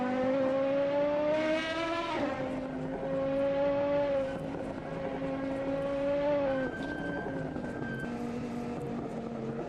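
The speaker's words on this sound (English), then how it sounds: "Hard braking for this corner." Volvo S40 BTCC race car at Sachsenring in a sim racing game, braking hard: a loud, continuous engine drone that drops in pitch in steps as the car slows and downshifts, with no talking.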